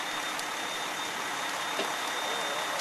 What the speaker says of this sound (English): The engine just pulled up on the scene.